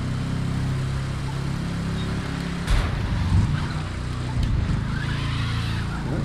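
A tuned VW Beetle engine in the racing game The Crew 2 drones steadily at high revs, with a constant low rumble and faint tire and road noise under it.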